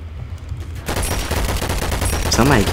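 Rapid gunshots in the Double Action Boogaloo video game, a loud continuous volley that starts abruptly after a quieter opening and keeps firing to the end, with voices in the mix.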